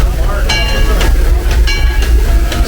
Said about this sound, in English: This train ride is considerably different than the train ride that we are used to.